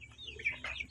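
Farm chickens cluck in short, uneven calls over a steady low background hum, moderately close but fairly quiet.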